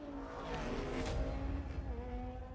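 A Porsche 550 Spyder racing at Hakone circuit in Forza Motorsport, engine droning steadily at high revs with a tonal whine and a brief rise in the middle, continuous with no voices.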